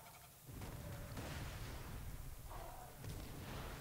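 A grenade blast in the video game Borderlands 2, a loud booming roar that swells and rumbles on, followed by a second heavy explosion.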